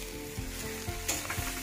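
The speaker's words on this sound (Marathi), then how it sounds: "कांदा गुलाबी रंगाचा झालेला आहे, टोमॅटो टाकूया" Chopped tomatoes tipped into onions frying in a pan for an aubergine bharit, a steady close sizzle with a few soft stirring scrapes and a brief brighter hiss as they hit the hot oil.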